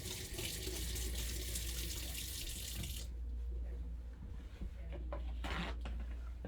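A tap runs into a sink while an instrument is rinsed in warm water, giving a strong close hiss of flowing water that stops abruptly partway through, followed by a few faint clicks and knocks.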